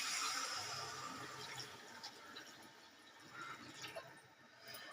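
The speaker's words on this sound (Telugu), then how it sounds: "వాటర్ అయితే వేస్తున్నాను." Water poured into a pan of fish curry pieces coated in salt, chilli and masala, a steady broadband rush of liquid running continuously and fairly loud throughout, with no talking.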